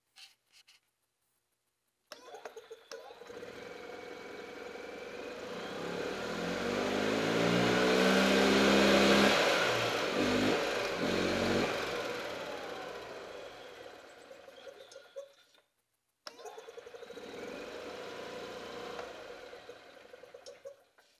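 An E-Z-GO off-road golf cart motor fires up after a short silence, rises to a louder revving drone with a rattling knock, settles back, then cuts out briefly and restarts into a steady idle.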